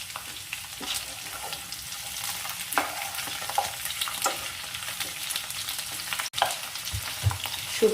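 Beans and papaya for Bengali shukto sizzle and fry in a pan as they are stirred, a continuous close crackle with scraping spatula strokes and one sharp knock near the end, no voices.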